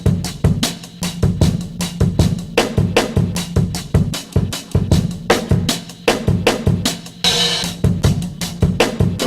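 A drum beat sample replayed from random positions in a buffer by a ChucK program, giving a loud, choppy stream of kicks, snares and hats with irregular stutters and a brief bright cymbal-like burst near the end.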